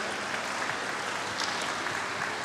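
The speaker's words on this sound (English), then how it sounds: "Please keep clapping" Audience applause at a youth leadership assembly on technology and innovation, steady dense clapping filling the hall at moderate level, with no voices standing out.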